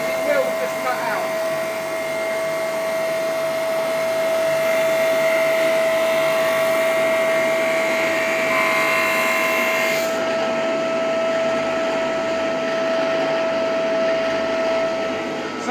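A Lumberjack drum sander runs with a steady whine and high-pitched tone as wood feeds through, the pitch shifting slightly under load before the hiss drops off near the end.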